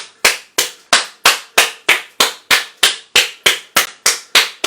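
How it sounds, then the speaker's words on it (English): Sharp, evenly spaced claps ring out alone, about three per second, loud and close, like a single person or small group clapping steadily at a meditation session. "give everyone a round of applause who's here doing the meditation"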